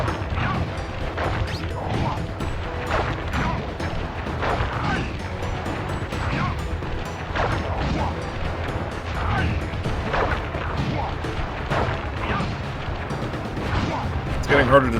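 Fireworks from a boss's attack in the Sly Cooper video game go off in a dense, continuous barrage of bangs, crackles and crashes. The blasts are loud and repeated for the whole stretch, with game sounds mixed in.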